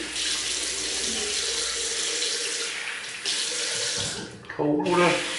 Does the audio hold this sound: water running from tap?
yes